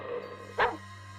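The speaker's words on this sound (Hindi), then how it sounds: "पीछे से कुत्तों के भौंकने की आवाज वहां गूंज रही थी" A single short dog bark rings out once, moderately close, over a low steady hum, with quiet before and after.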